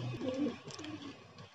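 Pigeons on a rooftop cooing in soft, low, rounded bursts, close and clear, with a few overlapping calls in quick succession and light background noise.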